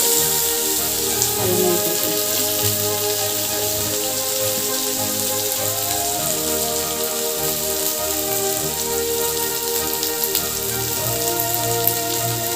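Ginger sizzles in hot oil in a pan for a ridge gourd curry, giving a steady, dense crackling hiss that holds at an even level throughout with no voices.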